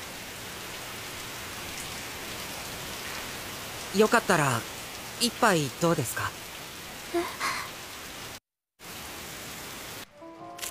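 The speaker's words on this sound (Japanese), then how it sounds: "雨" Steady rain patters outdoors as a soft, even wash of noise, while a few short spoken phrases rise above it and a brief dropout breaks the sound near the end.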